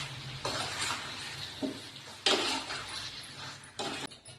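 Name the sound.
stirring marinated chicken in a pan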